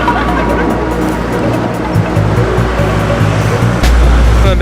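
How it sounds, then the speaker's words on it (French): Evening street traffic in Phnom Penh at about half past eight, a steady dense rumble of passing cars and engines with no break, growing a little louder near the end as a vehicle passes close. "Vous voyez, la circulation, il est 8h30 le soir. Et ça circule pas mal"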